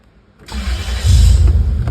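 A Toyota 4Runner engine cranks and catches after a remote unlock, a sudden start that settles into a loud, steady low rumble close by, with no one talking.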